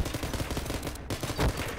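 Rapid automatic gunfire in the online shooter game Ballistic Overkill, a dense continuous burst of shots lasting under two seconds, loud and close with a brief gap midway.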